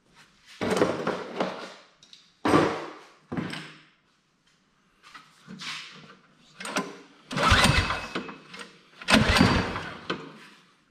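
Troy-Bilt Squall 2100 snowblower that won't start being pull-started: a series of separate recoil-cord pulls, each a short rasping burst with quiet gaps, close by, with no engine catching.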